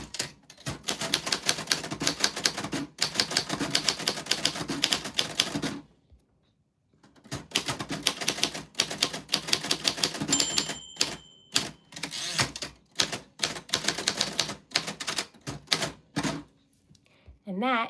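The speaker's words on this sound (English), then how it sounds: "it's typewriter ASMR, so I'm gonna type some things" A 1949 typewriter is typed in bursts of rapid, close key strikes, with a couple of pauses and carriage-return sounds between the runs.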